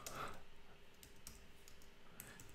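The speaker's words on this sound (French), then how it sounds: "soit j'utilise mon clavier, je fais supprimer" Computer keyboard keys pressed to delete text in a Canva design session, a few quiet clicks over a faint steady background hum.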